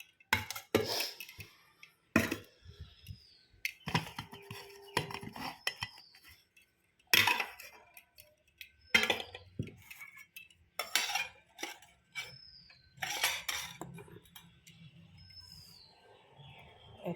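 Pots, dishes and cutlery being washed by hand in a home kitchen: intermittent bursts of clattering metal and clinking, close by, separated by quiet pauses, with faint bird chirps in the background.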